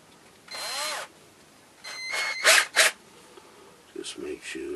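A hand-held drill bores into wood to hollow a long bushcraft pipe stem, with several short bursts of whirring and grinding separated by pauses and a faint rattle near the end, without speech.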